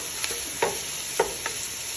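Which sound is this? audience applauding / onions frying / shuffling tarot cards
onions frying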